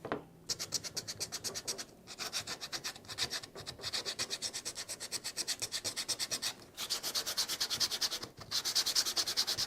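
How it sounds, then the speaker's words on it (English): Sandpaper rubbed by hand over a carved wood surface, a steady run of rapid rasping back-and-forth strokes with a few brief pauses, close and fairly loud, with no talking. "Now we're gonna go over this with a piece of sandpaper"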